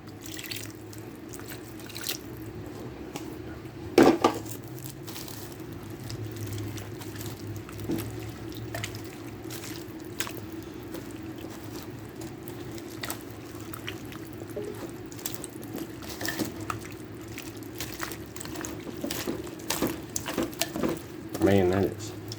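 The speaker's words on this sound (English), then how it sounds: "Grab our water. We need 3/4 cup of water." Three-quarter cup of water poured into a slow cooker of chili taco soup with stew meat, heard as a quiet, brief splash and trickle over a low steady hum, with a second faint pour near the end.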